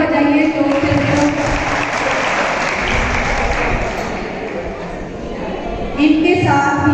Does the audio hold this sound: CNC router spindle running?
no